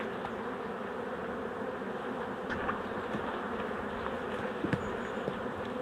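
Honeybees buzz steadily around an opened hive during an autumn inspection, a dense continuous hum close by with no talk over it.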